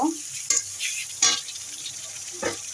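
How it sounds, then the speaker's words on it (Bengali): Spices with cumin paste and turmeric sautéing in a pan for a pangas fish curry: a soft, steady sizzle broken by three distinct scraping stirs of the spoon across the pan, close and fairly quiet. "মশলাগুলোকে ভালোভাবে কষিয়ে নেব।"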